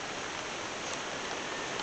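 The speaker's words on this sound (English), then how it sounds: "Rain and fall and me out here so work and I can't go into the yard house." Steady rain falls outdoors in a constant, even hiss that fills the whole moment with no talking.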